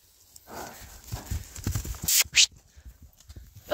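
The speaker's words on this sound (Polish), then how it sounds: "Co za koń." A young mare's hooves clip-clop in an uneven walking rhythm, a series of close, moderately loud thuds, with a couple of brief sharp higher noises in the middle.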